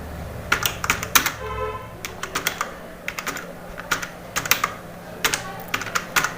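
Clattering keystrokes on a computer keyboard while typing a résumé, arriving in quick bursts of clicks separated by short pauses, close and fairly clear over a faint steady background hum.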